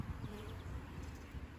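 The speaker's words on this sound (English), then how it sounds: "Got a bee right here with some pollen on it." A honeybee at an open beehive gives a faint, steady buzz close by, under a soft background hum.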